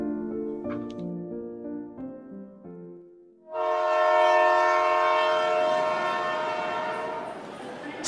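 A train sound effect in a Bengali audio story: soft tonal music fades out, then a loud train horn and rolling railway noise swell in and sustain, close and steady.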